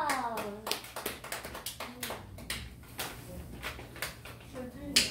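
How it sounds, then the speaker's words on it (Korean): Students in a middle-school classroom clap together in a quick burst of sharp, irregular hand claps, mixed with voices and cheering. "우리 박수"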